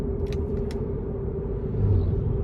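A 2019 Subaru Crosstrek Limited with about 74,000 miles drives along, its steady low road rumble and engine hum filling the cabin, with a brief swell in the low end near the end.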